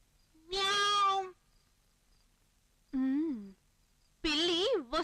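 A cat meows three times, drawn-out and wavering, clear and close with quiet pauses between the calls, in a Telugu film scene.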